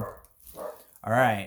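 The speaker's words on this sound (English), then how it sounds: "Oh, you can hear my dog barking." A pet dog barking indoors, one short bark near the end following brief speech and a faint earlier yip, fairly close and moderately loud.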